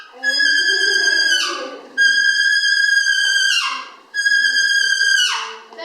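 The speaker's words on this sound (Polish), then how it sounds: "To jest odgłos też koźlaka, który mało tego, że jest zaniepokojony" Three loud, drawn-out bleats from a young goat, each rising then bending downward, spaced about two seconds apart and sounding close and distressed.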